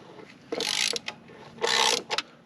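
Ratchet wrench turning the long 9/16 bolts on a 2024 Harley-Davidson Road Glide during an air cleaner install, two close bursts of rapid clicking with short stops between, no talk.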